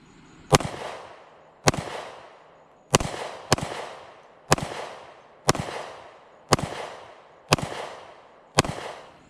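An EAA Tangfolio Witness Compact 10mm pistol fired nine times outdoors, each sharp loud crack followed by a decaying echo, spaced about a second apart with no voices.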